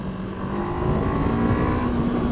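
Honda CBR500R motorcycle engine revving up to around 8,000 RPM, a steady, rising drone with a climbing tone that holds loud and close throughout, no talking.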